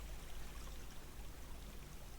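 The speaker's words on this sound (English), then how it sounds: "I think I can hear water somewhere here" Water flows steadily in a Minetest cave, a faint, continuous trickling stream somewhere nearby with no voices.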